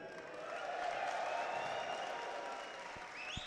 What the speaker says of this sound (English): The crowd are fired up.